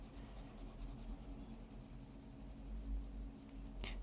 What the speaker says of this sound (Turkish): Sadece kabaca boyuyorum şimdilik.